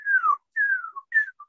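Radio whistlers from distant lightning bolts bouncing off the ionosphere: three clear, descending whistle-like tones, each gliding downward in pitch, followed by a brief fainter fragment, over near silence.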